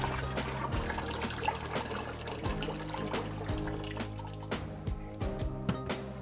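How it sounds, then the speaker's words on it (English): Water poured into a batch of homemade mango wine, a steady trickling and splashing stream close by with small drips, running continuously without talk. "So let's just add in a bit more water."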